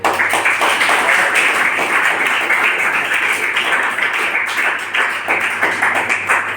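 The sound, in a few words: audience clapping for a senior colleague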